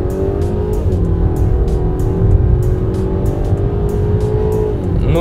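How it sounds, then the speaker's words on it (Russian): A used turbocharged crossover accelerates at full throttle, its engine note loud, close and rising steadily through the run, with a brief dip like a gear change before climbing again. "Дам газ в пол."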